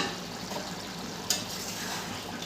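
Potol curry (aloo potol muri ghonto) stirred with a metal spatula in a pan, giving a steady soft scraping and low sizzle with one brief louder clink, close and continuous.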